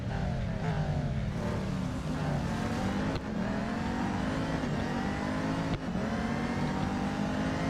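A race car's engine roars continuously in the mobile racing game Real Racing 3, revving high with brief dips at gear shifts, loud and close throughout.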